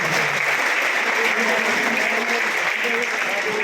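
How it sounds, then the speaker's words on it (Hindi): A large crowd applauds loudly at a Congress party gathering of workers, sustained dense clapping that stays strong and even from start to finish with a murmur of voices underneath. "आप सब एक जोरदार तालियों का राउंड हम सब के लिए"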